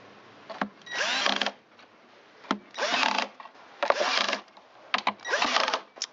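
A power screwdriver drives screws into the housing of an Echo PB770H backpack blower: four close, whirring bursts about a second each, separated by short pauses.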